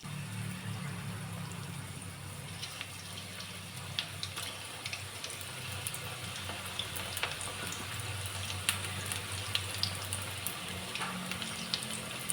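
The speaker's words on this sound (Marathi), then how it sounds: "भजी केल्यासारखं आपण हे तळून घेणार आहोत" Batter fries in very hot oil like bhaji, a steady soft sizzle with fine crackles and occasional pops, close and moderately quiet, with a low background hum.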